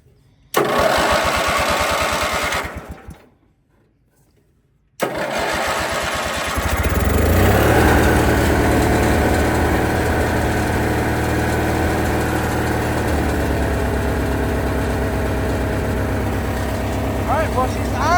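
A small vintage lawn mower engine sputters, cuts out, then restarts and settles into a steady, loud rumbling idle close by.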